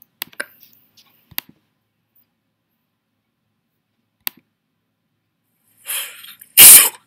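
A person sneezes once, loud and close, ending a stretch of near silence broken only by a few faint clicks and a breathy intake just before the burst.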